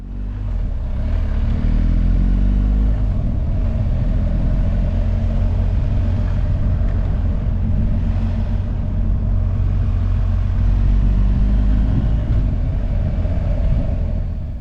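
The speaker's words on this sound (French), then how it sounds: "C'est vraiment cool de passer ici à moto et en été." A motorcycle rides through the Swiss Alps in summer past snow, with a steady loud engine drone and heavy wind rush over the whole ride, no talk.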